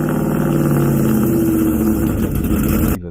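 Dodge Ram truck with a 5.7 Hemi V8 idling close by, a loud, steady low rumble with a lopey throb that stays even and then cuts off abruptly at the end.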